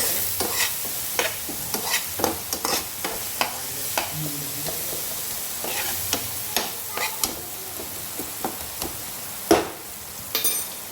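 Spice masala with green chili being stir-fried in a pan for a smoky eggplant bharit, close sizzling crackle under frequent sharp scraping strokes of a spatula, irregular and busy, with no talking.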